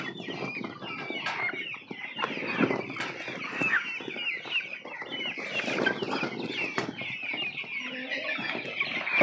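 Young Brahma chickens on a poultry farm, many clucking and chirping together in a dense, continuous chorus, close and fairly loud, with occasional wing flaps.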